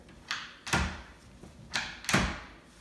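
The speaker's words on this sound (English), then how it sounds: "When we open the door, the latch is supposed to open and spring load back as shown here." A door latch in a stiff, sticking doorknob retracts and springs back twice, each cycle a soft click followed by a louder clack, close and alone.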